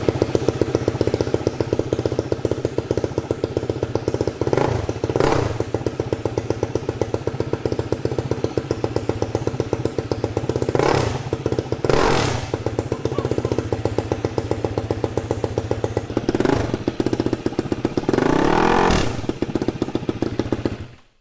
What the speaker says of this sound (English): That sounds like a massive engine.